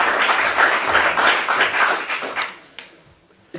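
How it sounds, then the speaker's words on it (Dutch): An audience at a panel discussion on art and political activism claps in a dense, lively burst that tapers off, leaving a few scattered final claps. "Onder jullie applaus."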